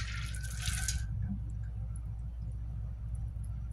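Field corn is rinsed under running water to wash off loose peels, a brief bright splash of tap water followed by quiet dripping and handling, faint and close.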